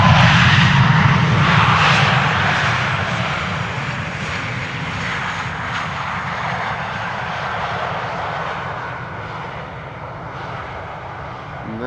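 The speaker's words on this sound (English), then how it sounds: "And that's a MAX 8 737." A Boeing 737 MAX 8 arriving at Amsterdam Schiphol Airport roars loudly overhead, its engine noise steady and broadband, peaking early and then easing gradually as the jet passes and fades.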